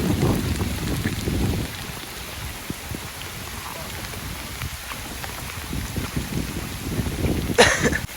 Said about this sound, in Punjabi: ਚੰਗੀ ਤੇਜ਼ ਬਾਰਿਸ਼ ਆ ਗਈ ਜੀ